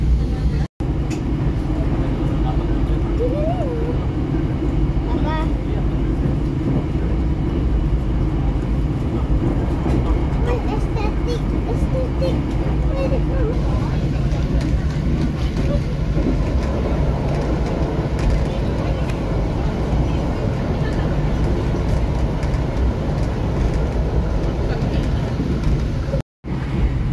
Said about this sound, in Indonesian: ini duduk di dalam kereta panoramik